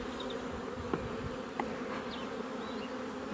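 Honeybees buzz inside an opened beehive, a close, steady drone with a few louder passes as individual bees fly near, kept at a moderate level throughout.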